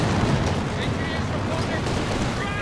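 Artillery fire in Company of Heroes 2, a dense rumbling wall of booms and explosions rolling continuously under the game's battle noise, loud and close.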